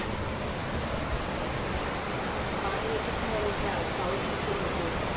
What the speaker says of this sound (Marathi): पाऊसच पाऊस.